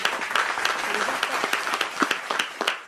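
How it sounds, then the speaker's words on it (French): A small group applauds, a moderate patter of overlapping claps with scattered sharper hits, with voices talking over it. "on peut applaudir ça"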